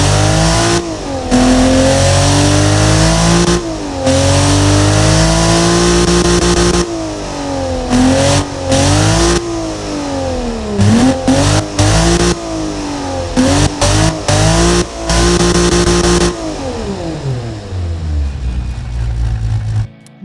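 A BMW S50B30US naturally aspirated engine with an aggressive camshaft and long tubular exhaust headers revs hard in the Automation car-building game, rising and falling repeatedly in loud, sustained sweeps that settle toward a lower idle at the end.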